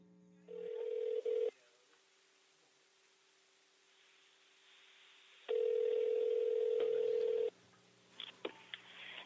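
Phone call being placed on a comedy podcast's phone-a-friend segment: a steady dial tone starts, then another long tone follows after a pause, with faint clicks and rustles near the end, no voices.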